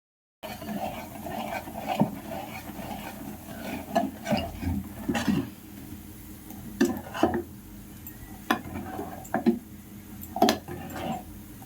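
Dosa cooking in oil on a hot tava, heard as a steady low sizzle with scattered clinks and taps of a spatula against the pan throughout, fairly quiet and close, with no talking.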